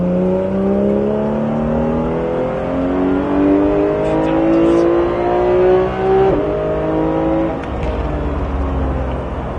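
Porsche GT3 engine on the Pôle Mécanique Alès circuit, revving hard with rising and falling pitch as it shifts down and climbs again, a steady loud drone close by with brief dips at the gear changes.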